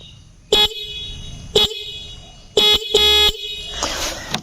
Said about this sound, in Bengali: তো আমি আপনাদেরকে দেখিয়ে দিই বাইকের যে হর্নটা আছে এটার সাউন্ড আগে শুনেন